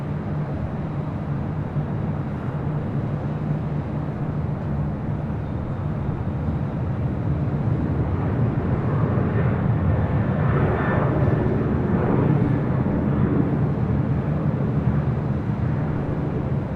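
A Delta Airlines jet taking off at LAX, its engines producing a continuous loud, broad roar that swells slightly over the span, heard at a distance with no voices.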